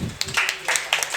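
Students in an online class give a short round of clapping, several sharp, uneven claps scattered over about a second, moderately loud and fairly close.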